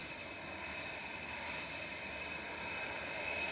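A Ryanair Boeing 737 MAX 8-200 jet at Manchester Airport produces a constant broadband engine roar with a faint high whine, heard from a distance and growing slightly louder toward the end.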